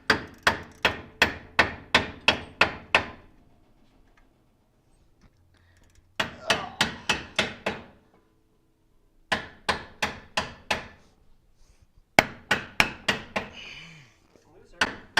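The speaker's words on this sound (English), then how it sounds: "we're going to hammer this thing around" Hammer blows ring out on the rear suspension of a Datsun 240Z, falling in four quick rhythmic series of sharp metallic strikes separated by short pauses, close and loud.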